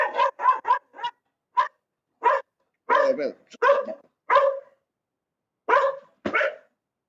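A dog barks repeatedly from close by just behind the room, sharp bursts in irregular clusters separated by brief silences.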